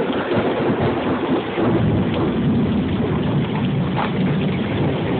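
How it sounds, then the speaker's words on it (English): Heavy rain pours during a nighttime thunderstorm in Hopkinsville, a loud, dense, constant hiss with deep rolling thunder rumbling underneath throughout, and no voices. "It is raining like crazy."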